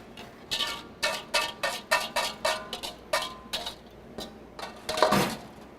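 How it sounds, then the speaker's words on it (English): A utensil stirring eggs in a metal pot clinks and scrapes against the sides in a quick regular rhythm, about a dozen sharp close strokes with a brief pause before a final louder clatter. "give that a good stir, and then back to the pot"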